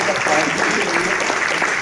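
At a company business gathering, a crowd claps in loud, dense applause for a brief moment, filling the room evenly.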